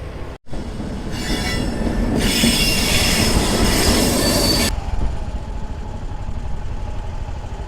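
A loud train rumbles past close by, its wheels squealing high and sharp, and the roar then eases to a steady rolling rattle.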